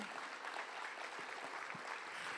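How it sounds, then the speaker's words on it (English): An audience at a new student orientation convocation ceremony claps in a steady wash of applause that runs throughout, fairly distant and even, with no speech over it. "let's give another round of applause to our platform, all faculty, staff, and students"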